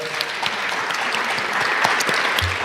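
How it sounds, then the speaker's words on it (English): Audience applause for an art speaker at a museum talk, a brisk, even patter of many hands clapping at moderate loudness through the whole moment. "let's give a round of applause to Raven Cook"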